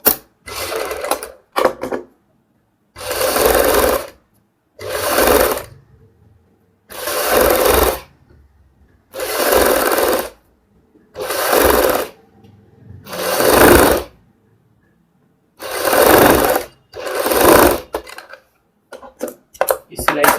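A sewing machine stitches a folded kurti neckline in repeated short bursts of loud, close whirring, roughly nine runs separated by brief pauses.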